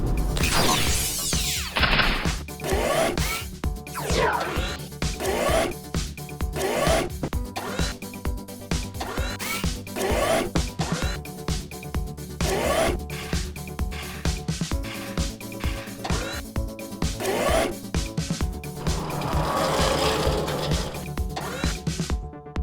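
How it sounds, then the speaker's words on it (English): Cartoon workshop clatter of a screwdriver fixing a machine and a crossbar being welded, with repeated ratcheting clanks, mechanical whirring and a hissing burst near the end, loud and busy throughout, no voices. "fix the machine with the screwdriver and weld the crossbar"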